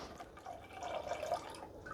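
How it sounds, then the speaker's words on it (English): Homemade brown sugar wine is poured slowly, a soft, close trickling and dripping of liquid running steadily throughout. "I'll pour this a little more slowly so they don't splatter stuff everywhere."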